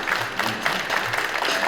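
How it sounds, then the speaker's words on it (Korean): Audience applause at the 4th Limsungki Researcher Award Ceremony, a steady wash of clapping from a seated crowd lasting under two seconds, moderately loud with no voices over it. "박수 보내주시기 바랍니다"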